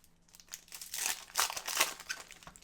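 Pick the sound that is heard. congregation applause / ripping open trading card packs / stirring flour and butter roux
ripping open trading card packs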